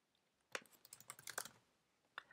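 Keys clatter on a Mac keyboard in one quick, close burst of several strokes, with a single extra tap a moment later and no voices.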